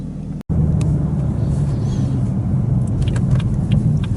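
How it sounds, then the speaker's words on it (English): A BMW M2 drives with a steady, loud engine and road rumble that holds throughout after a brief cut at the start. "So let's take the M2 for a spin and see the immediate differences"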